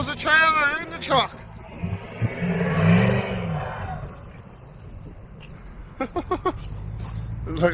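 A truck engine revs and strains while pulling a trailer out of a long trench on a remote ice road, a rising, sustained growl under a man's nearby speech at the start and end.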